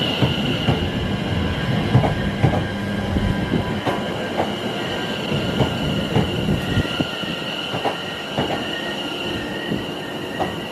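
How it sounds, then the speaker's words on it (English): Interior of a Class 720 electric train in motion on the Mayflower Line near Harwich: steady rolling rumble and hum with periodic clicks and faint wheel squeal, continuous and moderately loud, no talking. "Now on board my final class 720 of the day"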